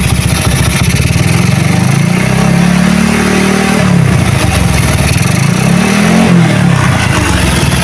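Motorcycle engine with a PWK carburettor running at low RPM, loud and close: a steady throbbing idle with two smooth rises and falls in revs, no voices.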